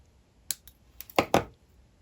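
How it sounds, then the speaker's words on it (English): Wire cutters snipping sterling silver wire while wrapping a labradorite pendant, a few small sharp clicks followed by two close, crisp snaps in quick succession, alone in a quiet room. "this one won't go all the way around, so I'm going to snip it if I can get in there."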